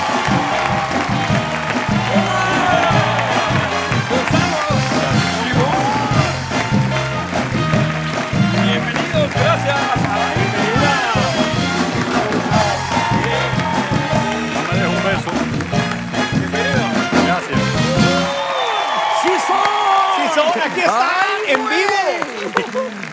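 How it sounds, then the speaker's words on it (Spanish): A television talk-show studio audience applauds and cheers as guests arrive, in a dense sustained roar of clapping mixed with loud music, with a host's voice heard over it. "Recibamos con un fuerte aplauso a Gonzalo Menéndez e Ivonne Angulo"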